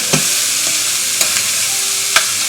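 Onions and bacon sizzle steadily in a pan as they soften. The hiss is close and even, with a few brief clicks of stirring.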